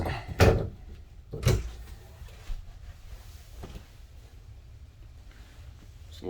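Dresser drawers in a 2021 Forest River Wildcat 368MB RV are worked twice: two sharp, close wooden slide-and-thump bursts about a second apart, then a quiet room with faint rustling.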